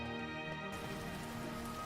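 Steady rain at night, a continuous hiss of drops falling on surfaces, even and moderately faint throughout, with a soft tonal background hum and no voices.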